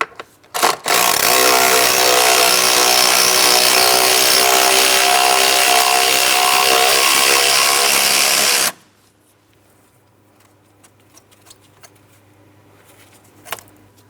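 A power tool whirs loudly and steadily for about eight seconds, close up, while removing a 10mm bolt from a valve cover bracket on a 2003-2007 Cadillac CTS 3.6L V6. It stops abruptly, followed by faint clicks and handling noises.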